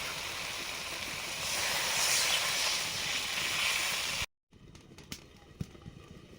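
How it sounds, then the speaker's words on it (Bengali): Water poured into a hot pan of frying cauliflower stems with fried potatoes, cumin and coriander powder gives a loud, steady close hiss for about four seconds, then cuts abruptly to quieter clatter. "এবারে জল দিয়ে দেবো।"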